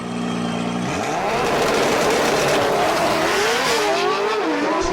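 Race cars in a FiveM drag race video game with realistic engine sounds scream loudly at high revs. Pitch climbs sharply through gear changes as the cars accelerate, with a hint of tire squeal.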